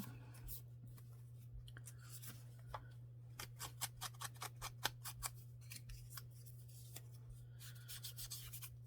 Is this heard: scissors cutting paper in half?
yes